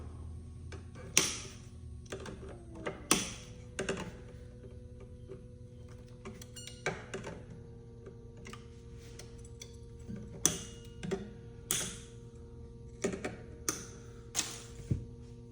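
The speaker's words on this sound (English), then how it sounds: "now we're going to cut the excess of the strings off." Excess guitar strings being snipped off a Floyd Rose bridge with cutters, a series of sharp isolated clicks and snaps spaced irregularly over a quiet low hum.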